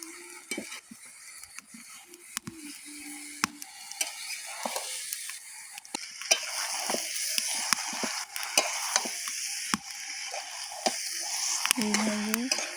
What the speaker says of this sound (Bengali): পালং শাকটা দিয়ে আবার ভালো করে কষিয়ে নিতে হবে।